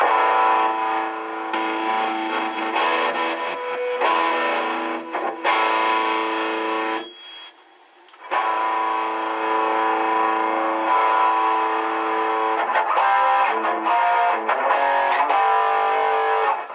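Distorted electric guitar playing through a Boss Katana amp with the compressor off for about sixteen seconds, loud and sustained, with a short pause midway before strumming resumes.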